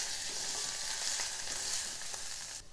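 Chutney ingredients frying in a pan for a gooseberry and fresh coconut chutney, a dense, steady close-up sizzle with faint stirring scrapes and no voices.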